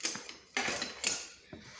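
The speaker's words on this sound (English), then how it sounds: "I'm going to give this a stir." A spoon stirring peach pie filling after vanilla is added, giving a few short scraping clinks against the bowl in separate bursts, close and fairly quiet with no voices.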